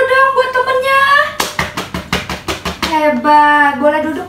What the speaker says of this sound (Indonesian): Oke, tepuk tangan dulu dong buat temennya.